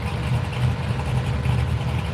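A Ford Cortina drag car sits idling at a street machine drag event, giving a steady, loud, low rumble with a slightly lumpy pulse and no voices.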